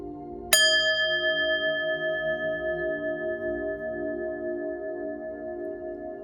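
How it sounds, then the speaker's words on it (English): A single bell struck once for a spirit-clearing ritual before a tarot reading, ringing out clearly with a long, steady resonant decay over several seconds, alone with no talking. "I'm going to ring the bell, clear your energy"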